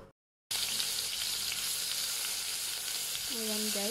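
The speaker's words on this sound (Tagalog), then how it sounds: "So, medyo mainit na po. So, ilagay na natin yung onion tsaka garlic paste." Onion and garlic paste sizzles loudly and steadily in a hot pan after a brief silent gap, a constant frying hiss with a short stirring scrape near the end.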